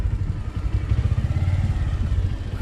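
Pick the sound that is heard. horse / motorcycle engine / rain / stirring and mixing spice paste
motorcycle engine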